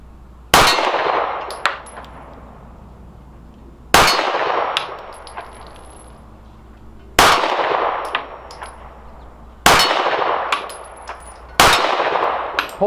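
Five Smith & Wesson M&P 2.0 Compact pistol shots with SIG 124 grain V-Crown jacketed hollow points at 15 yards, each sharp loud report followed by a ringing clang off a steel target, evenly spaced about three seconds apart.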